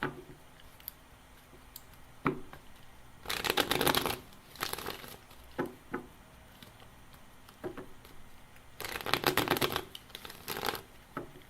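Tarot cards shuffled in two loud bursts of rapid riffling flutter, each lasting about a second, with softer scattered taps and card handling between them, close up and without speech.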